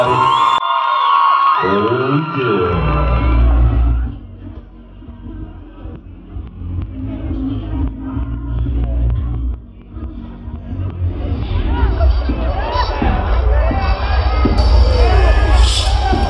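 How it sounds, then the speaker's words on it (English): Audience at a university talent show cheering loudly with whoops and shouts, a crowd roar that swells and holds after music fades at the start. "How about a round of applause, everybody?"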